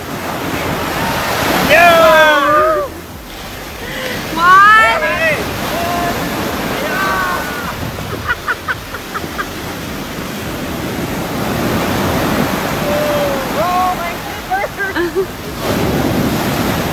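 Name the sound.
sea waves crashing on Boracay beach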